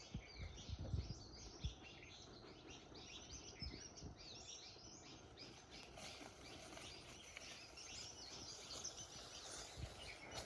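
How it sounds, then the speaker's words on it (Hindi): Dense, continuous bird chirping and calls fill the air, layered with a busy wild chorus of tweets in an outdoor jungle setting. "जंगल की आवाज़ सुनो, चिड़ियों की आवाज़।"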